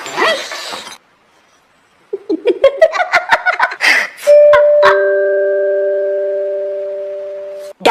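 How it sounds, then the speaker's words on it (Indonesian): A front-door doorbell rings with a rising run of chime tones, then holds a long sustained electronic tone, loud and close, after a brief outburst of sound. "terdengar suara bel pintu depan"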